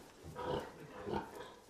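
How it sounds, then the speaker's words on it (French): Pigs on a farm feeding on a fibrous diet of straw, hay and freshly cut grass, with soft grunting and snuffling that swells in two faint bursts over a steady low background. "Les porcs prennent leur temps pour manger,"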